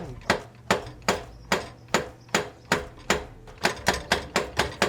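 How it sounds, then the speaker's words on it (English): Hammer blows drive a car driveshaft axle into the wheel bearing on an Acura TSX, about a dozen sharp ringing metallic whacks in a steady rhythm, close up and fairly loud. "That gives it some good whacks right there."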